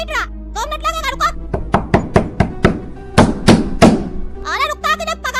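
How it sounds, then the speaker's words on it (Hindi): A run of heavy, hollow knocks pounds on a door in quick bursts, loud and close, with people talking just before and after. "अरे कोई दरवाजा पीट रहा था"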